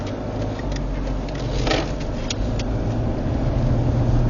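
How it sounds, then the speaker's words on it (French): A car approaches along a road, its engine hum building steadily from a moderate level toward the end while the listener sits in a car with a low cabin drone and a few faint clicks. "il y a une voiture qui arrive juste un peu plus loin"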